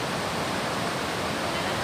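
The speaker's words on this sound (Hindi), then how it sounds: "देखिए काफ़ी सारा पानी और इसकी इतनी ज़्यादा आवाज़ आ रही है" Rushing water of a stream or waterfall outdoors, a loud, steady, broadband roar that fills the whole clip without a break.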